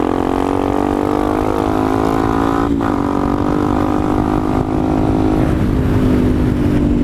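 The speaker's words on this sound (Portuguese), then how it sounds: "andando de moto" BMW R90 motorcycle ridden through a road tunnel, a loud steady engine drone echoing off the walls with a brief dip in revs partway through, close and continuous with no talking.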